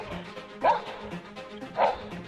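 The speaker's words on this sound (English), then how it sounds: "It immediately barks loudly, showing clear aggression, forcing the bear to hesitate and retreat." Dog barking at a black bear approaching a house: two loud, sharp barks about a second apart over a faint background.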